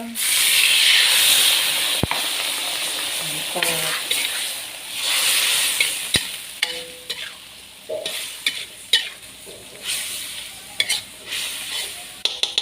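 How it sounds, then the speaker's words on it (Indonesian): Carp simmering in a pot of Betawi-style sauce made with pounded toasted coconut and water bubbles and hisses steadily, with occasional clinks and stirring sounds close up. "Sekarang udah mendidih."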